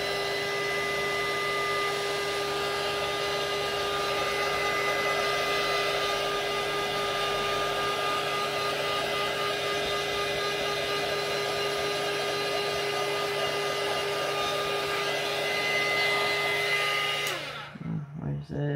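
A dryer blows steadily to dry a craft product, a loud, even whirring hum with a constant tone that runs almost the whole time before cutting off abruptly near the end.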